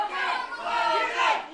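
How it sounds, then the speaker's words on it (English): A capacity wrestling crowd chants for Logan Henderson, a dense, sustained roar of many voices swelling and falling, loud and continuous throughout. "capacity crowd chanting for Logan."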